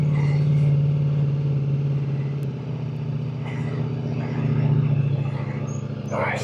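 A Ducati V4 Pikes Peak motorcycle struggles for traction off-road, its engine a loud, close, steady drone that wavers with load and dips briefly midway before pulling on again.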